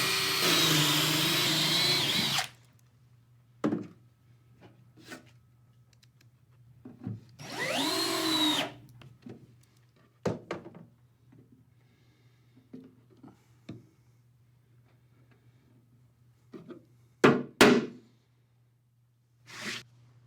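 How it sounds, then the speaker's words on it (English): A power drill bites into a wooden deck board during a quick drill, screw and plug sequence using the SmartBit Pro Plug system: short loud whirring bursts separated by quiet gaps with small clicks and taps. "I just drilled, screwed, glued, and plugged this deck board in less than 20 seconds."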